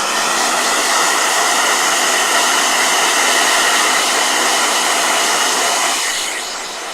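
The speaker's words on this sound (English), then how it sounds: "They want blow dryer." A blow dryer runs loud and steady, its broadband whoosh holding level before easing down slightly near the end, with no voices over it.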